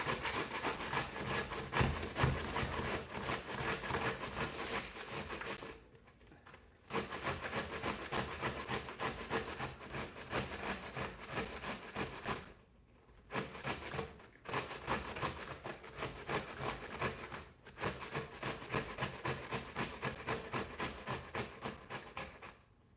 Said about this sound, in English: You're just going to take a box grater.